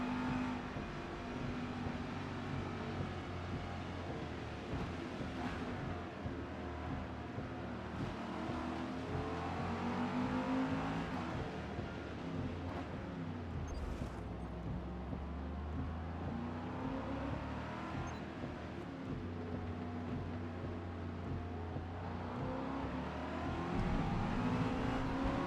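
Ford GT race car in Forza Motorsport, driven in wet conditions, its engine droning and revving steadily throughout with rising and falling pitch as it accelerates, loud and continuous with no one talking.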